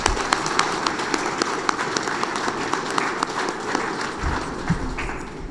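Audience applause at a tax directors' seminar, a dense continuous patter of many hands clapping in a hall, loud and sustained, with no talking over it.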